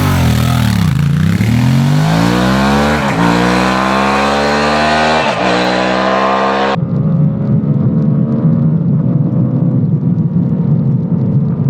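A Honda Transalp motorcycle engine revs up hard through several climbing pitches, loud and close, then settles into a rough, steady idle-like rumble.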